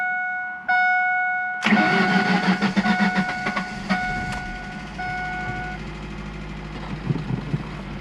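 A car engine cranks and fires up after new spark plugs were fitted, with one weak cylinder: a sharp start, then a rough, pulsing idle that settles and keeps running nearby.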